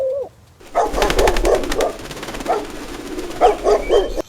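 A street dog barks in a rapid burst of sharp yaps, pauses, then barks again in a second flurry, close and loud, in a dramatized comic story scene with no speech over it.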